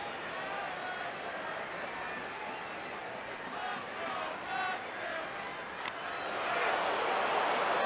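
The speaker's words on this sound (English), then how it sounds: "Crowd doesn't like it" Stadium crowd at a Braves–Dodgers baseball game, a broad steady murmur of disapproval with scattered voices rising slightly toward the end, heard from a distance without commentary.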